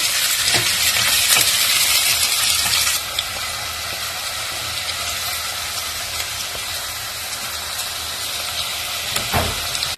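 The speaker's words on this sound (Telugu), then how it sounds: "ఆయిల్ హీట్ ఎక్కిన తర్వాత ఆనియన్స్ వేస్తున్నా. కలుపుతున్నా ఆనియన్స్ వేసి." Onions frying in hot oil in a pan, stirred while cooking for a Telugu potato curry; a steady loud sizzle fills the clip, easing slightly after a few seconds, with occasional scraping stir sounds.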